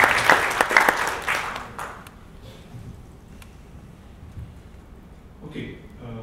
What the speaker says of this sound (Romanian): am să vă rog la aplauze